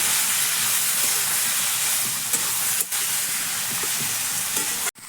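Mustard and poppy seed paste stir-fried in a pan, giving a steady, close sizzling hiss with soft scraping and stirring strokes throughout, then a brief cutoff at the very end.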